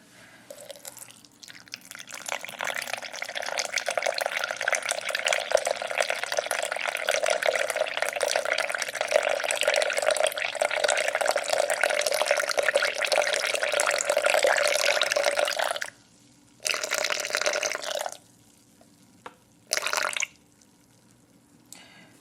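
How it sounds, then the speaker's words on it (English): Warm water poured into a bowl on a kitchen scale while making sourdough bagels, a steady close stream lasting about fifteen seconds, then two shorter pours, with no talk. "Next, we are going to add in 250 grams of warm water."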